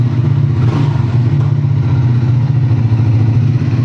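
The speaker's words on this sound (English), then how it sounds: "yeah, I love the engine sound." Motorcycle engine and exhaust running steadily close by, a loud continuous low throb with a fast, even pulse and no talking.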